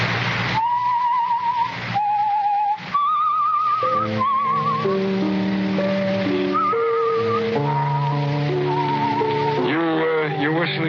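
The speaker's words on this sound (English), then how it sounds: "You whistle yourself like that very often?" A man whistles a lilting tune alone, steady wavering melodic notes running continuously with a low background hum.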